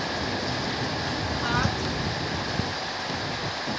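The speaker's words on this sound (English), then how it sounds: "there's hell and heavy rain going on right now" Heavy rain storm with hail in Willcox, Arizona, a dense continuous hiss of pouring rain with a few faint knocks, steady and loud throughout.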